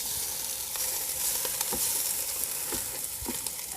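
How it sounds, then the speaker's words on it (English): Steady sizzling of catfish in a hot pan, a constant crackling hiss with small pops scattered throughout, fairly close and without voices. "So we're gonna get these fish in"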